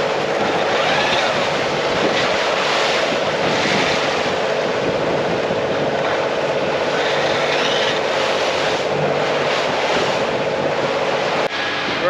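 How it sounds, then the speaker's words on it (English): Waves slosh and rush around a sailboat at sea as a hurricane-season storm system passes and the wind dies down, a steady, dense wash of surf and wind noise with no talking. "the wind dies down, but the waves are still quite substantial"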